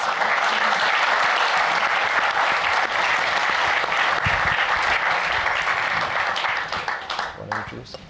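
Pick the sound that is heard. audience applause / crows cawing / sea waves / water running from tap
audience applause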